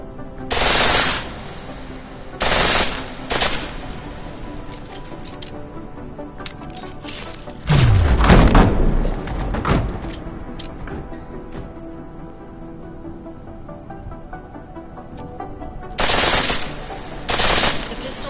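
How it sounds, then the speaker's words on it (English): A pistol set to full auto in Deus Ex: Mankind Divided rattles out several short, loud, rapid bursts separated by pauses, with faint mechanical handling sounds between volleys. "The pistol in full auto will take down targets fast, but it'll burn through your ammo."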